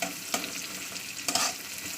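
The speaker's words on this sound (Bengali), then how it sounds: "পেঁয়াজটাকে একটু লালি করে ভেজে নিতে হবে।" Onions frying in a pan until lightly browned, a steady soft sizzle with two brief louder stirring scrapes, close and alone without talk.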